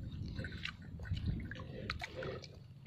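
Close, quiet chewing of warm roasted sweet potato, with soft moist bites and squishy mouth sounds in a short run and no talking.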